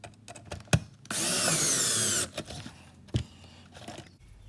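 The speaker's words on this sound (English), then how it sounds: "Using a drill runs the risk of breaking plastic, stripping holes, whatnot" A power drill whirs steadily for about a second while installing an automatic chicken coop door, surrounded by scattered clicks and handling knocks, with no talking.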